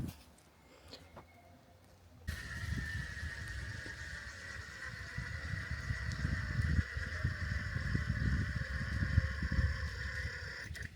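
A winch strains to drag a stubborn tree root out of cleared ground. A steady mechanical whine and rumble starts abruptly and grows louder as the root holds fast, with no voices.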